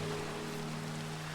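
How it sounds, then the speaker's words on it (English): Rain in the video game Minecraft, a faint, steady, soft hiss of falling drops with a low hum underneath and no voices. "It's raining."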